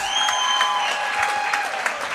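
A crowd at a girls Division III high school basketball game, Hoosac Valley Regional against another team, applauds steadily with dense clapping and a few whistles, the sound broad and continuous throughout.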